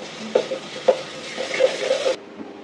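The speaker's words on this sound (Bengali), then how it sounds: "এখন এখানে রসুন বাটা দিয়ে দিলাম অল্প একটু রসুন বাটা" Garlic paste frying with onions in a pan, a steady sizzle with a few stirring scrapes and clinks, close and moderately loud, cutting off abruptly near the end.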